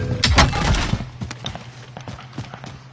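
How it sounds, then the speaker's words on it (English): Gunshots ring out in a video game: a cluster of loud, close shots at the start, then a few sparser, fainter single cracks spaced out afterward. "Shots down to my left"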